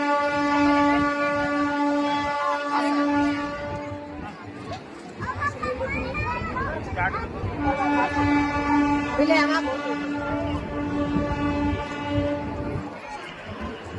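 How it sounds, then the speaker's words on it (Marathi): A train's long horn sounds repeatedly over rumbling rail noise as it pulls away from Beed station toward Ahilyanagar, with people talking and children's voices throughout. "आपण पाहू शकता ही अहिल्यानगरकडं आता ही ट्रेन निघालेली आहे"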